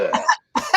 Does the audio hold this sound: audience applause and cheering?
no